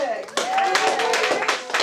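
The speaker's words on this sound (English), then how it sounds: "a big round of applause for the class of 2026" A crowd applauds and cheers at a high school senior project presentation, dense continuous clapping with voices mixed in throughout the short burst.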